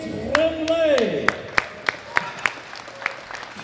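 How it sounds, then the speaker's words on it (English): Scattered, separate claps ring out for a medal winner at a world classic powerlifting championship ceremony, following a brief voice, spaced irregularly and fairly close. "Big round of applause for Camille Tremblay."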